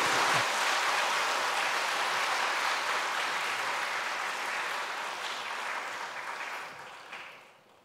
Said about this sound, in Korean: 한번 크게 박수 쳐주세요.